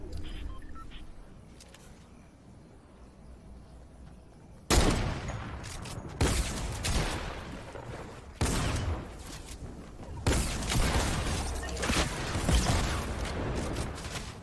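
Gunfire in a battle royale video game: after a quiet stretch, several loud bursts of shots break out one after another, each followed by a short rattling tail, with faint talk underneath.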